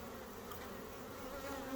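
Low, steady buzzing of many honeybees swarming close by around a hive, a continuous drone with no voices.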